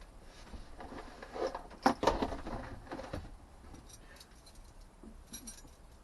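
A small ring of try-out keys is handled up close, giving a few light metallic jingles and clinks, with one sharper clatter near the middle, over a faint indoor background.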